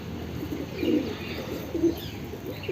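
A captured wild-looking pigeon with unusual striped markings gives two soft, low coos over a faint background hiss.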